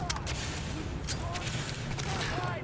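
Rapid gunshots from The Division video game, a quick string of sharp cracks over a busy background of game sound and mechanical clatter, with a voice faintly present.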